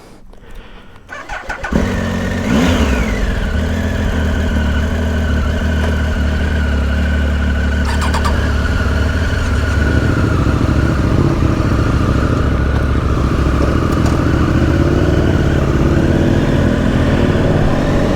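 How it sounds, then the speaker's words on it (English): A Triumph Street Triple motorcycle engine starts with a brief crank and then settles into a loud, steady, close idle that rises slightly as the bike pulls away on a country road. "Wicked bike, the street triple. Just absolutely flies."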